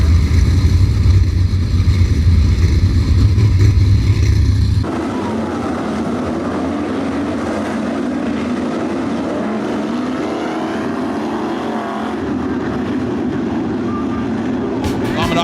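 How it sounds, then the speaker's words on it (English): Loud engine roar of 305 sprint cars passing at Attica Raceway Park, then a lower, sustained rumble of engines circling on the wave lap while an announcer talks over a loudspeaker. "the wave lap for the 305 sprints as they come down the front stretch."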